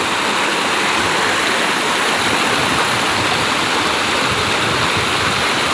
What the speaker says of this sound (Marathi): पाण्यातनं चालून जायचं आहे पलीकडे